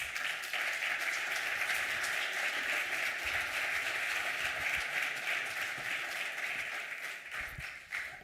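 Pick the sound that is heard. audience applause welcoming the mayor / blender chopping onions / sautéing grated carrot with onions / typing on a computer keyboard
audience applause welcoming the mayor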